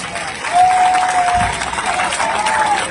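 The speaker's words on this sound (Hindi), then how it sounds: "मेरी तरफ से आप एक बार इनके लिए तालियां बजा दें।" An audience at a public speech applauds together, a steady clapping wash from the crowd lasting a few seconds with a brief tonal note over it.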